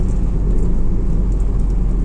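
A crowded bus or dolmuş drives by in a Turkish street, its steady engine rumble and road noise loud and continuous throughout, with no voices.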